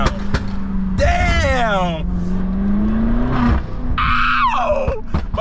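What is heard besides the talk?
BMW X5M with loud catback exhaust driving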